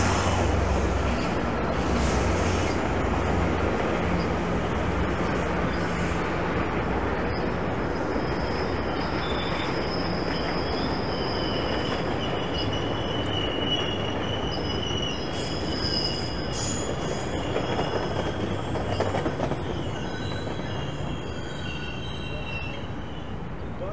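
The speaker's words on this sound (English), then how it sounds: "Another GO train rolling in." A GO commuter train rolls into a downtown Toronto station, with loud, steady rumbling wheels and drawn-out high wheel squeal running close by throughout.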